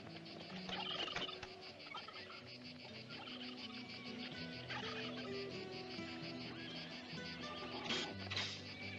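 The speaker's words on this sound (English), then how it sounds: "Them birds are good layers." Farm fowl, likely turkeys, gobble and call repeatedly in a hot outdoor Western setting, a steady chorus of clucks and gobbles with insects buzzing faintly behind.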